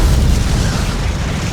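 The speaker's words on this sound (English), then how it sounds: "a massive explosion ripped through the forward cargo hold" A bomb detonates in the forward cargo hold of an aircraft, a loud, dense blast of broadband noise that rolls on as a sustained roar with no talk.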